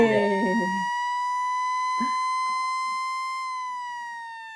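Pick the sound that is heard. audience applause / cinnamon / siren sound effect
siren sound effect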